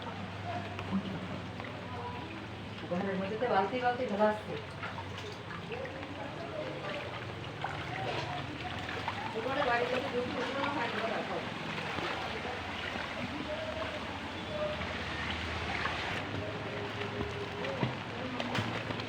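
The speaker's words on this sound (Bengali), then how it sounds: "দেখেন কিভাবে বাড়ির ভিতরে পানি ঢুকছে।" Floodwater runs into a house in Dargahpur, Satkhira, during waterlogging after heavy rain, making a steady broadband rushing and splashing wash that continues throughout, with faint voices under it.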